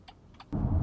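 A 2021 BMW X1 xDrive28i engine restarting after an automatic start-stop shutoff: faint clicks in a quiet cabin, then a sudden close engine catch that settles into a steady idle rumble.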